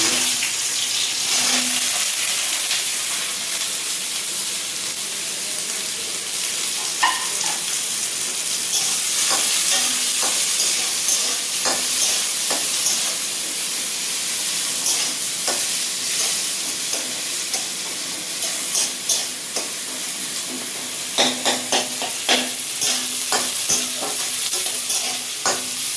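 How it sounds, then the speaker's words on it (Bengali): Onions frying in hot oil with mustard seeds, a continuous close sizzle with occasional stirring scrapes and small pops throughout, no voices. "এই যে সর্ষে ফোড়ন দিলাম, দিয়ে পেঁয়াজ দিয়ে দিলাম।"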